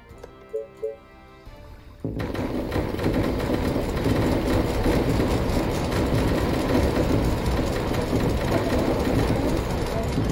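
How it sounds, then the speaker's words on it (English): In a strategy video game, a train pulls into a station with a loud, continuous rumbling rattle and rhythmic clacking that rises in and holds steady. A few short tonal game chimes come first. "The train has arrived at the station."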